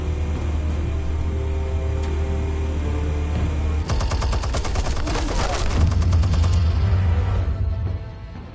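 Explosives detonating in the Batman Telltale video game, a burst of rapid crackling blasts breaking in over a steady low rumble, loud and close, then tapering away.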